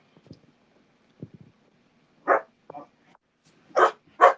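A dog barks in a few separate bursts, some soft and short, then louder, sharper barks near the end, with quiet gaps between them in an indoor setting.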